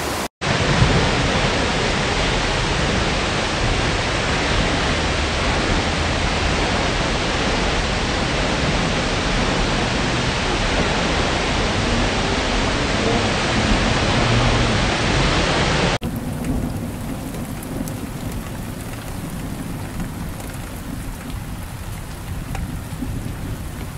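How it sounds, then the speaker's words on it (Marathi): Powerful Kelavali waterfall roaring as a dense, continuous broadband rush of falling water, loud and steady throughout, slightly duller and quieter in the final stretch. "खूप पाण्याचं प्रेशर आहे"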